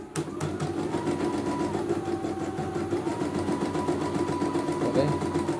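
A CNY E900 embroidery machine runs during a test, producing a steady, fairly loud mechanical whir with a fast repeating needle rhythm that continues unbroken.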